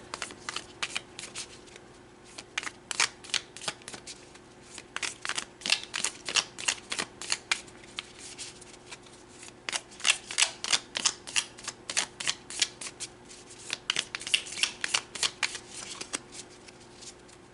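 Tarot cards shuffled by hand in a steady run of crisp riffling flutters, with short pauses between bursts, close and fairly quiet with no talking.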